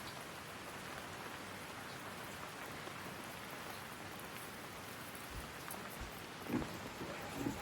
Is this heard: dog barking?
no